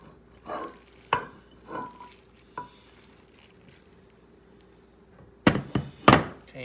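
A mixture dumped into a buttered baking dish: several soft wet thunks and plops, a pause, then a couple of louder close slaps and scrapes against the dish, with no talking.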